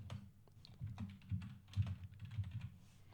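Quiet, steady typing on a computer keyboard while entering a folder command in a terminal, with soft irregular key clicks spread across the whole stretch and no talking.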